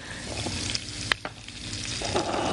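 Steady sizzling and frying noise from a hot pot, a broad continuous crackle with a couple of sharp clinks partway through.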